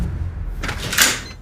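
A door in an apartment opens or closes with a short swish and a muffled thud, close by and over in about a second.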